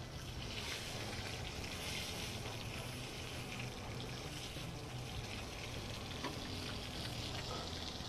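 Small delicate fish frying belly side down in a pan of oil, a soft, steady crackling sizzle that runs evenly throughout without talk.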